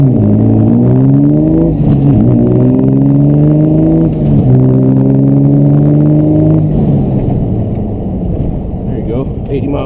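A twin-turbo Cummins diesel pickup in four-wheel drive accelerates hard, its loud engine note climbing through repeated gear pulls, close and continuous from inside the cab.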